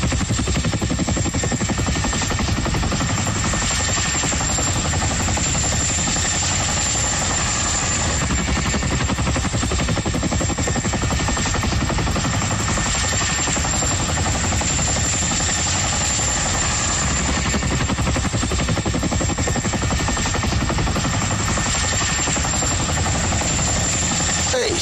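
Steady US Army helicopter engine and rotor drone in flight, loud and continuous with a constant vibrating roar and no talk over it.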